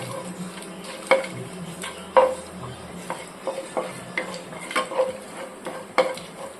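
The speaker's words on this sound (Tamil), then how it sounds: "நம்ம சேர்த்துக்கிட்ட ஹோல் கரம் மசாலாவை எண்ணெயில நல்லா பொரிய விட்டுருவோம்." Whole garam masala spices frying in hot oil for drumstick thokku, a soft sizzle broken by irregular clinks and scrapes of a spoon against the pan, close and fairly quiet.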